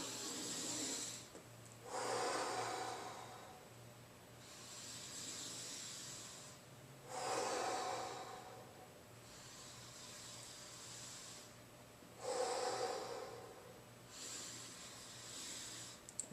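Deep, slow breathing during a chakra exercise at a wellness camp, with several long breaths drawn in and pushed out evenly over a steady low hum, close and fairly quiet, with no talking.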